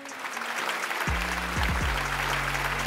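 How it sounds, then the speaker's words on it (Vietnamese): An audience on a television talk show applauds a mother, a steady crowd of clapping hands at moderate level, with a low sustained musical tone entering partway through and underpinning the applause. "một tràng pháo tay cho bà mẹ tuyệt vời luôn"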